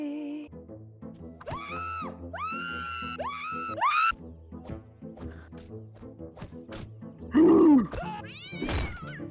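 A cartoonish cat meows repeatedly in a video game, several rising and falling meows in a row followed later by a louder drawn-out yowl, over a busy game soundtrack.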